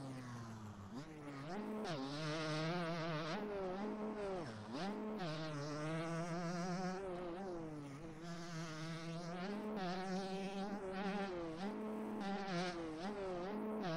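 Overworked 125 motocross bike engine in a racing video game, revving in a continuous high, buzzy drone that rises and falls with throttle blips and gear changes, loud and close throughout.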